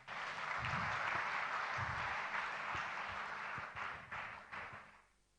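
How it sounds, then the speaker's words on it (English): Sustained audience applause at a Nigeria Customs Service conference, a broad steady roar of many hands clapping that holds for several seconds before thinning into a few scattered claps and fading out. "Please, a round of applause for him."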